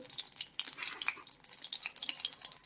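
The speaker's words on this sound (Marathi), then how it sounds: "लोखंडी कढई ठेवलेले थोडस तेल टाकायचं आहे मोजक कारण आपल्याला सोयाबीन परतून घ्यायचे आहे" Soybean chunks frying in a little oil in an iron wok, a steady faint crackle and sizzle with scattered small pops and stirring scrapes, no voices.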